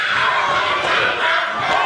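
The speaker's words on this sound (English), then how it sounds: "this crowd is chanting relentlessly for the OMGs" A wrestling crowd chants steadily and loudly, a dense mass of voices filling the space continuously without pause.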